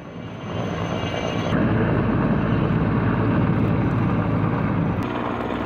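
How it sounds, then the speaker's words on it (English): Helicopter flying over a forest fire near a fishing spot, a steady loud rotor and engine drone that holds continuously from start to finish, with no voices. "that helicopter's been back"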